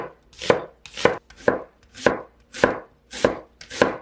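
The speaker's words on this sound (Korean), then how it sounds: "양파 3개는 얇게 썰어줄게요." A knife slicing three onions thinly, seven crisp, evenly spaced chops on a board, close and loud with no talking.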